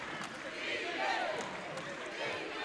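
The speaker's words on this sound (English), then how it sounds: "As you hear the crowd chant, defense." A basketball arena crowd at a Golden Lions versus Jaguars college game chants during a tight late possession, a steady, fairly distant roar of many voices filling the hall with rhythmic swells and no clear break.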